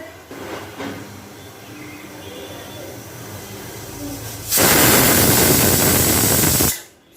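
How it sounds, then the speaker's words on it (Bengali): Pressure cooker whistle releasing steam while cooking a pumpkin and potato dish, a loud, steady hissing blast that bursts in after quieter kitchen sounds, holds for about two seconds, then cuts off abruptly. "দুটো সিটি মিডিয়াম অবস্থাতে একটা সিটি পড়লো আর একটা সিটি"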